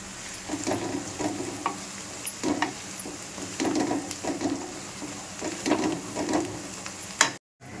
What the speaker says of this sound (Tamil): ஒரு 2-3 நிமிஷம் நல்லா ஃப்ரை பண்ணிக்கலாம்